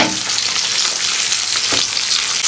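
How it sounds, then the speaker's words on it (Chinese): Bacon sizzling loudly in a hot pan on a griddle, a continuous dense crackle close up with a faint stirring scrape partway through and no talk. "煎个培根吃"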